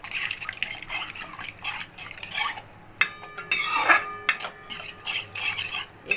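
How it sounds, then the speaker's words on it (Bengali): Milk poured slowly into a pan of pointed gourd and stirred, giving liquid splashing and pouring sounds with light clinks of a utensil against the pan, close and moderately loud. "সেই দুধটা আস্তে আস্তে মেশাতে থাকবো আর এটাকে নাড়াবো"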